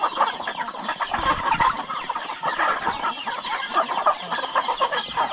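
A flock of farm chickens kept for slaughter clucks and squawks continuously in a rural yard, a busy, overlapping chorus of calls close by with no talking.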